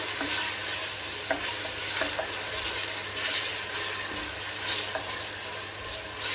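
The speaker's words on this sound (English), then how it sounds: "When the onions are cooked, I'll add the coriander and the garlic. Cook it together." Onions frying in a pan with coriander and garlic, a steady close sizzle with occasional soft stirring scrapes, no talking.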